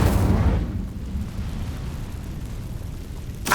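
Incendio fire spell cast in the Hogwarts Legacy video game, a loud whooshing, rumbling burst at the start that settles into a sustained crackling roar, with a sharper flare at the very end.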